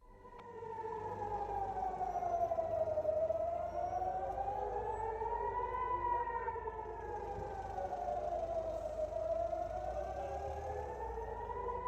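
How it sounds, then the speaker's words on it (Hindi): A wailing air raid siren in southern and central Israel rising and falling in slow, sweeping cycles, heard from a distance and steady throughout with no voices. "पहली एयर रेड सायरन एक्टिवेट होती है साउथ और सेंट्रल इसराइल में"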